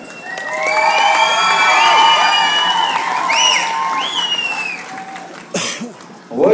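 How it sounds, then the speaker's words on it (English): A crowd claps and cheers loudly and steadily, with whoops and shouting voices rising over the sustained applause before it fades near the end. "We want your applause, no drum, just your voices"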